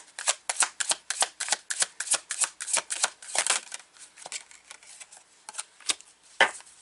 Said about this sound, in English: For some reason, I really want to pull from this deck, Pisces, so we're pulling cards from this deck